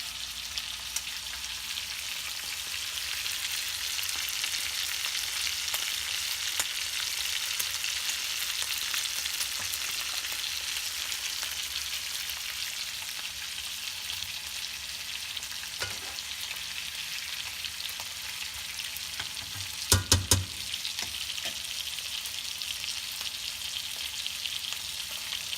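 Thick ribeye and tenderloin steaks sear in a hot pan with a loud, unbroken sizzle and crackle, broken near the end by a couple of brief clanks, and no one speaks.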